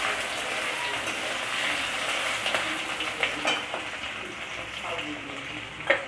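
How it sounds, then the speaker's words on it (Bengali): Potatoes fry with chopped green chilli in a pan, giving a constant crackling hiss with a few soft stirring knocks near the end. "এবার এতে আমি আলুটাও দিয়ে দেব, দিয়ে একটু"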